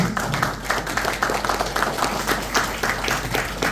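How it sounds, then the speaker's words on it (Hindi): Audience applause at a business automation seminar for a New Year event, loud rhythmic clapping from a crowd with fairly regular pulses, close and sustained across the whole stretch. "तालियां बजाओ।"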